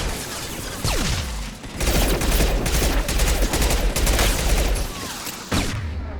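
Gunfire in Mass Effect 2 sounds as dense, loud automatic volleys. A short burst comes first, then a long sustained stretch of rapid shots and a final sharp crack, set close against a busy battle mix.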